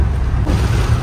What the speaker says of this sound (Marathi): हवा आणि पाऊस आहे, हवा आणि पाऊस.